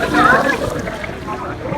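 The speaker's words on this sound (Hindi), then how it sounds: "ये झरना माशाल्लाह खूबसूरत जी" Waterfall splashing in a green-town park in Punjab, a dense rushing wash of falling water heard close and steady under a voice talking over it.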